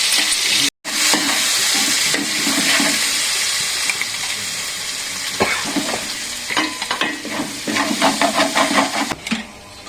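Mustard seeds, dried chilli, ginger garlic paste and tomato fry in a pan with a loud, steady sizzle and crackle, broken by a brief gap and later by scraping stir strokes.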